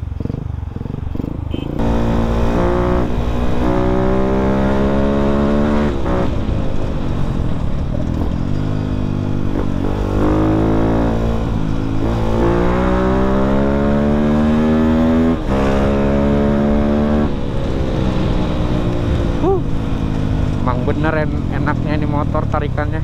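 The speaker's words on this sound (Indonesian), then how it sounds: "Enaknya ini motor tarikannya." Modified Yamaha Vixion supermoto motorcycle accelerating on a ride, its engine note climbing and dropping through several gear pulls, loud and close, with someone talking over the engine.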